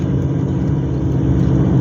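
A car engine climbs a mountain road in third gear under steady throttle, a loud, continuous low rumble and drone holding close and unbroken with no voices.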